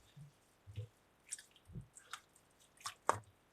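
Cornflour and water being stirred together to make a thickening slurry, heard as a handful of soft wet squishes and drips spaced out irregularly, close and quiet, with no talking.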